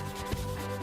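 Sandpaper rubs back and forth across a painted wooden end table in two quick, soft strokes, close up, with a low steady hum underneath.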